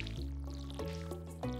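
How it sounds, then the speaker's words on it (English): Watering crops with a watering can in Stardew Valley, a few short splashy pouring bursts over steady game music, each pour starting abruptly in quick succession. "Time to water the ground."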